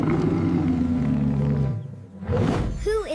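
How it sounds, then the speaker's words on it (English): A lion gives a deep, loud roar that rumbles strongly through the low end for about a second and a half, breaks off briefly, then resumes with a second rougher burst. "It's a lion."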